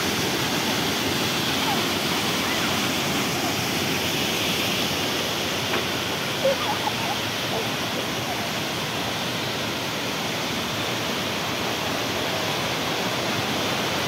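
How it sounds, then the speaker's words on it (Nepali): The Boudeshwor waterfall at Jhor near Kathmandu roars as a constant broad rush of falling water, loud and unbroken throughout, with a faint voice briefly audible beneath it. "यतापट्टि झरना"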